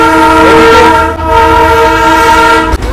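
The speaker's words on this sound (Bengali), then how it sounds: "হর্নের শব্দ অনেক বেশি, বারবার হর্ন দিতে থাকে" A Darjeeling toy train on the Darjeeling to Ghum joy ride blows its horn over and over. The loud, close horn blasts run almost continuously, with only two brief breaks, above the rumble of the moving train.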